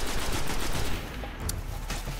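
Enemy gunfire in the video game Destiny, a dense rattle of rapid shots that runs loud and steady through the whole span, easing slightly midway, with no talk over it.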